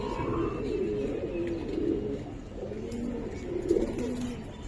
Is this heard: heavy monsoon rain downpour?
no